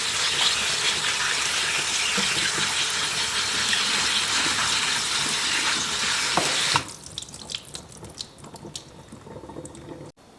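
Cabbage is rinsed under a running kitchen tap, a loud steady gush of water that stops abruptly partway through, followed by faint drips and handling sounds.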